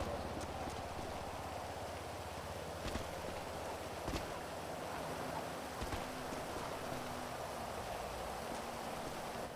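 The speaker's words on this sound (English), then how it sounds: "I haven't seen rain in ages." Steady rain falls in the video game GTA V, a soft continuous patter under a faint low hum, broken by a few sharp taps and clops.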